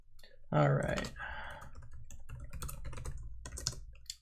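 A computer keyboard clatters in bursts of quick keystrokes and clicks, close and fairly clear, with someone talking between and over the typing.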